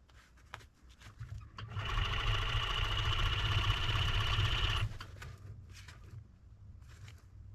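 A sewing machine runs straight across fur for a hunting muff in one steady, droning burst of about three seconds. Quiet handling clicks come before and after it.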